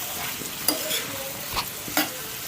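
Potato pieces fry in a steel pan with a soft, steady sizzle, broken by a few sharp scrapes and clinks as they are stirred. No one speaks.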